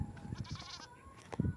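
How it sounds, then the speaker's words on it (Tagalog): Goats bleat in an open field, a few short nasal calls at moderate distance, fairly faint against light outdoor background noise. "Hello mga kambing. Kamusta kayo mga kambing?"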